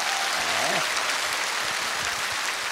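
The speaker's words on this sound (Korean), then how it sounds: "수고하신 분에게 박수 주시기 바랍니다" A large audience at a televised singing contest in a university hall applauds a contestant, a continuous roar of clapping that fills the space, with a voice briefly heard over it.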